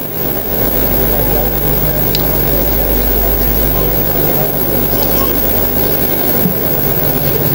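An Embraer Super Tucano turboprop aircraft flying, a loud and steady propeller drone with a deep low rumble that holds constant throughout.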